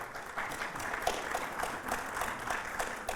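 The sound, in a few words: audience applause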